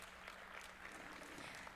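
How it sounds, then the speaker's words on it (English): Applause at a bio industry summit ceremony, a steady dense wash of clapping from an audience that continues evenly throughout without a break. "Please give a big round of applause"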